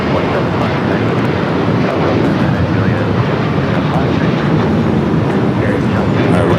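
An airliner touches down at Los Angeles International Airport, its engines making a steady, loud, broadband roar that holds without a break throughout.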